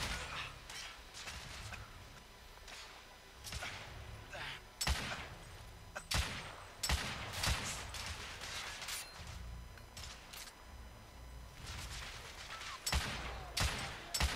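Gunfire in the video game The Order: 1886 sounds as repeated sharp shots and bursts spread across the stretch, some close and punchy, with a player talking over the action at times.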